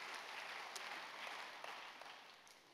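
A church congregation applauding, a steady, dense wash of many hands clapping that stays even and fairly distant, slowly fading toward the end.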